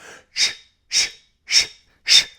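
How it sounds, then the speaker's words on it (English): Four forceful hissing exhales pushed through the lips during hot yoga breathing, evenly spaced, each a sharp shh-like burst with silence between. "Making an SH sound through the lips."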